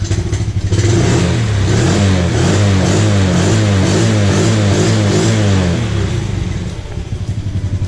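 A Honda TRX90 ATV engine idles loudly and steadily while warming up, with a rough, chugging rhythm and mechanical clatter, close by, with no talking.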